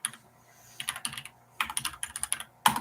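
A computer keyboard typed on in short bursts of crisp, close keystrokes, separated by brief pauses in a quiet room.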